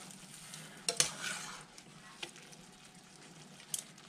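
Linguine finishes cooking in a pan of sizzling spicy clam sauce, with a soft steady sizzle and a few sharp clinks of tongs against the pan, quiet and close.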